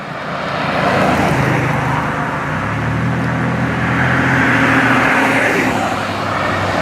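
Cars passing through an uncontrolled road crossing, giving a steady broadband traffic roar with engine hum that swells as vehicles go by, continuous and fairly loud with no talk.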